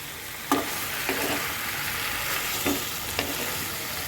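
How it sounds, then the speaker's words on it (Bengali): Chicken curry with tomato paste frying in a pan, a steady sizzle broken by a few scattered spoon knocks against the pan. "আমি এখন এটাকে সুন্দর করে কষাবো"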